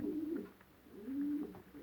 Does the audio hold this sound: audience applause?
no